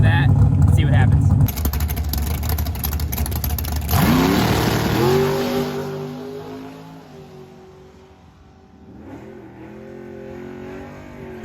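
A drag race car launches and accelerates hard down the strip on a humid day, its loud engine note climbing steeply in pitch, easing, then climbing again in a second surge, with background noise throughout.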